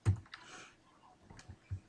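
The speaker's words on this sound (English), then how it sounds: "I click on it and I start typing" Clicks and keystrokes on a computer keyboard, a handful of sharp, close taps spaced irregularly with a brief flurry in between, heard alone without talking.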